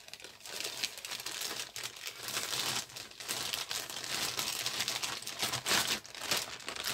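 Plastic packaging from a small jewellery stand crinkles and crackles in close, continuous handling bursts for several seconds, with no talking.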